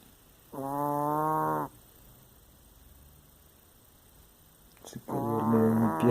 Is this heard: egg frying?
no